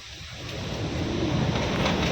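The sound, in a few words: rain and thunder outside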